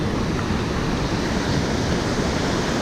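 Pacific ocean surf breaking along a California beach, a continuous loud roar of waves with a steady wind-like hiss and no distinct individual breakers.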